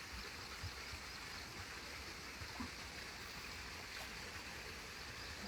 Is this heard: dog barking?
no